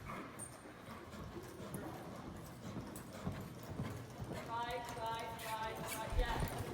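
A horse canters around barrels during a riding lesson, its hoofbeats a rhythmic clip-clop throughout, with muffled voices and a dog's bark or whimper in the background.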